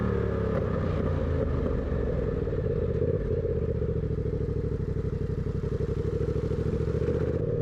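A turbocharged Yamaha MT-07 motorcycle engine roars steadily with a rough, clattering rumble during a 0-60 mph launch, holding a loud, constant drone throughout.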